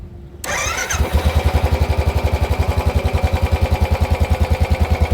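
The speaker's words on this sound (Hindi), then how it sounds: "हम इस बाइक को स्टार्ट करेंगे एंड हम लोग चेक करेंगे कि इसका थम्पी नोट आज भी रॉयल एनफील्ड के ब्रांड को जस्टिफाई करता है या नहीं" A Royal Enfield Standard 350 motorcycle is kicked into life, then its single-cylinder engine settles into a loud, steady, evenly spaced thumping idle close by, with no other sound.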